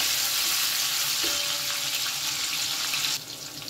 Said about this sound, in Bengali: ফুলকপিও ভালো করে ভেজে নিয়েছি।